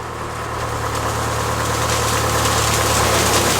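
A tractor engine idles out in a field, a loud, steady low rumble with constant vibration and no break for the whole stretch.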